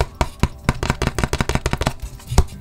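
Thick white cardboard with a canvas coating is tapped repeatedly in a sound test, giving a quick string of sharp, close knocks, irregular at first and then rapid and even, with a final louder tap.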